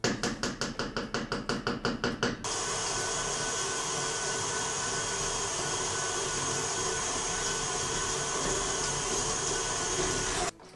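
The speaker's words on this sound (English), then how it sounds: "Let's use the mixer." An electric kitchen mixer beats butter for Easter cookie dough, starting with a quick run of rhythmic tapping, then settling into a steady, loud motor whir that runs for several seconds before cutting off.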